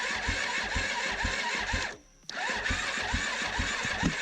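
Suzuki LTZ400 big bore ATV on a stock exhaust with a small power tip cranking on the starter in rapid chugging bursts, briefly cutting out, then cranking again, loud and close.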